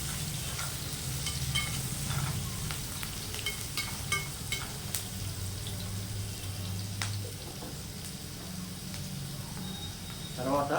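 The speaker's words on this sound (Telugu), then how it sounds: "తర్వాత ఎండుమిర్చి, ఇది కూడా చక్కగా వేగాలి," Dried red chillies fry in oil in a home kitchen pan, giving a soft continuous sizzle with occasional stirring clinks, fairly quiet and close.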